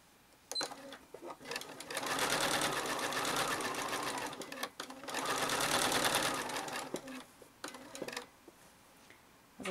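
A sewing machine stitches free machine embroidery on a postcard, running in two fast whirring bursts of a few seconds each, close and clear, separated by quiet pauses with small clicks.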